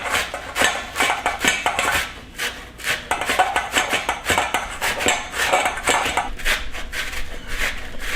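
A knife minces fennel on a cutting board in quick, uneven bursts of chopping strokes, with crisp scraping and rapid taps repeating close by and no talking.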